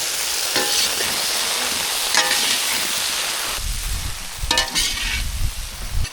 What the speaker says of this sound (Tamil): மசாலாவெல்லாம் சேர்த்தாச்சு நல்லா கலந்து விட்டுக்கலாம்